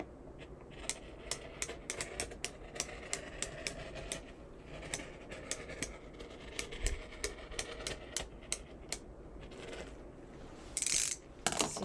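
A cutting machine slices through material for an upcycled gift, giving a steady run of small mechanical clicks and ratcheting ticks over a low motor hum, with a brief louder burst near the end.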